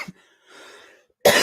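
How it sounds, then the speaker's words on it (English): A single close, loud cough bursts out at the end, after a tiny throat sound and a stretch of faint breathy rustle. "bear with me if I'm too loud coughing"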